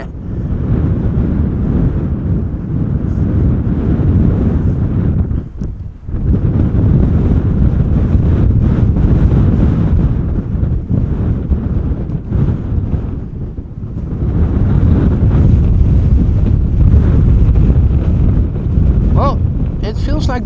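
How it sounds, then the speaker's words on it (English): Strong wind at Schiphol Airport roars and buffets the microphone in a loud, continuous rush, briefly dipping near six and fourteen seconds before surging again. "it feels like the wind is picking up even more"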